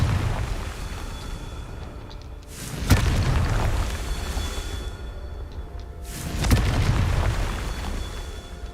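Two heavy booming blasts of a Confringo blasting curse in Hogwarts Legacy, each a sharp burst followed by a rumbling roar that lingers for a few seconds, loud and close, with no talk over them.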